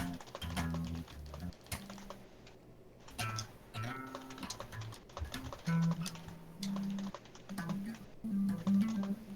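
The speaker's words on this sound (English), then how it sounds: "you're probably hearing my keyboard" Computer keyboard typing heard close and fairly quiet, with rapid clicky keystrokes in irregular bursts mixed with pauses and a low game soundtrack underneath.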